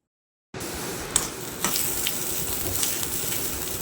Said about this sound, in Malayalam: ലേശം വെളിച്ചെണ്ണയിൽ കടുക് പൊട്ടിയതിന് ശേഷം കുറച്ച് തേങ്ങ ചിരവിയതും അതിൽ കുറച്ച് കറിവേപ്പില ചപ്പൂട്ട് നല്ലപോലെ ഒന്ന് മൊരിയിച്ചെടുത്താൽ മതി